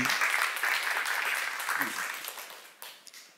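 Church congregation applauds during a sermon, a broad wash of clapping that gradually fades, with a voice speaking faintly underneath.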